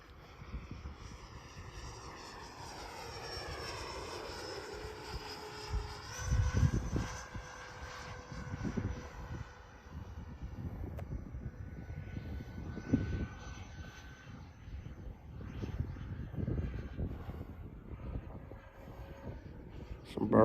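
A Freewing B-2 Spirit RC jet with twin 70mm electric ducted fans makes a pass down a runway, its rising and falling whine sweeping by at moderate distance over wind rumble and outdoor background.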